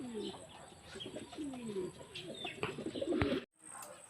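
A racing pigeon being trained for a north race coos in soft, low repeated phrases close by, with other bird chirps and faint background noise, ending in a brief louder burst before a sudden drop.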